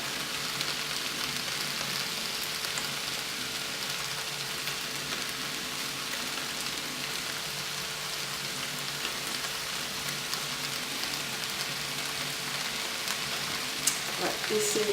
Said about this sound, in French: Maintenant j'ajoute le sachet de sauce.